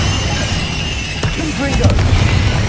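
Fire spell Incendio cast in the Hogwarts Legacy video game, a whooshing burst of flame over a steady low rumble of game ambience and music, with a sharp crack partway through and a voice shouting in the mix.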